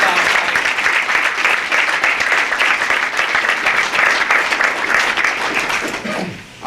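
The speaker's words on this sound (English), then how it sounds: "Yeah, clap it up." A crowd applauds loudly and steadily at a Hartford mayoral campaign announcement at Capital Community College, dense clapping that carries on for several seconds before tapering off at the end.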